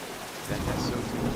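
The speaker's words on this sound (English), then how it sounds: "It's always raining and thunder when I play." Steady rain and a low thunder rumble in a hunting video game world, the rumble swelling partway through over continuous rainfall, with no talking.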